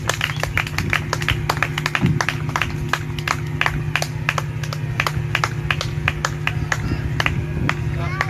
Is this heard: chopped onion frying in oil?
no